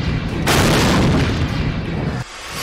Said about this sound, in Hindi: आसमान में ही हुआ ड्रोन में विस्फोट